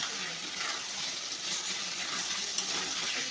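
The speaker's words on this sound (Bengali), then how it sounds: "আমি জল দিয়ে দেবো" Hot water pouring into a pot of Bengali fish curry, a steady broadband watery gush that runs unbroken and fairly loud from start to end with no talking.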